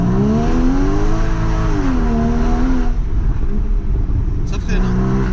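A Porsche Cayman GTS driven hard, its engine note climbing and then falling away as it brakes, loud and close from inside the cabin, with people talking over it.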